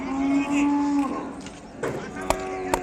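An Ongole calf gives a drawn-out moo close by at a Sunday cattle market in Kodada, Telangana, followed by a few clicks and rustles from the surroundings.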